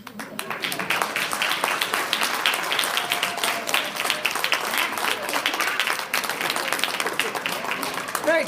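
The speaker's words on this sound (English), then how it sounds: "Another round of applause for time." An audience claps after a spoken-word poetry rendition, a busy patter of hands running throughout with some crowd noise and a voice or two mixed in.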